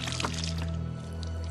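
Gasoline poured from a container onto a pile of landscaping wood waste outdoors, a steady close splashing pour over a constant low hum, with no talking.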